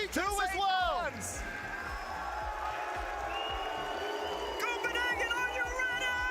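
A crowd at an RLCS Rocket League watch party in Copenhagen cheers and whoops loudly, with voices rising at the start, then settling into a steady roar of hubbub. More shouts swell near the end.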